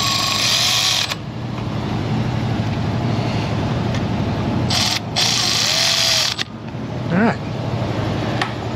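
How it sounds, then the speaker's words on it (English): A power tool whirs steadily at a low, even speed for several seconds in a car repair shop, with a few brief pauses and squeaks between runs. "I'll very carefully use my power tool on a slow speed"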